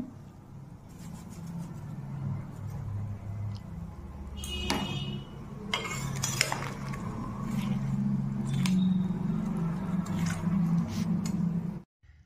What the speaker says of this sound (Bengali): এটি আরও 5 মিনিট আমি খুব এটি নাড়াবো খুন্তা দিয়ে